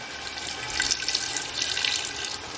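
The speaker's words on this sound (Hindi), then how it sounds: "इसमें हल्का सा पानी डालेंगे हम" Steady stream of water poured into a pan of mutton curry, running and splashing, a continuous hiss with slight swells, no voices.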